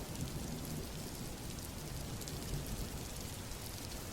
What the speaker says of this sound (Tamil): வாவ், செம்ம மழைல.